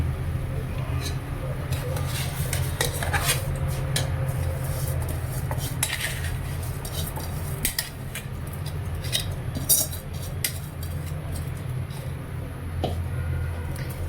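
Soaked rice goes into a pot of Maharashtrian masale bhat and is stirred, bringing scraping, metallic clinks and light rattling against a steady low kitchen hum.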